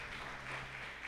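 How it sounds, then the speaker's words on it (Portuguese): Applause from a church congregation during a Portuguese-language worship service, a steady dense wash of clapping filling the whole moment with no pause. "gostaria que você desse uma salva de palmas para essa palavra"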